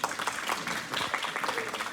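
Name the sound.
class applause for a student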